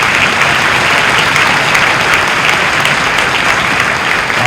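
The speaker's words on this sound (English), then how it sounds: "Give yourselves a round of applause." Sustained, loud applause from a concert audience at a string performance, a dense even wash of clapping holding steady throughout with no voices over it.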